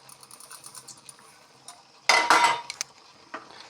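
A spoon clatters and scrapes against a pot while spices are mixed into plum (boroi) pickle, with soft light taps at first, then a louder burst of metallic scraping and knocks.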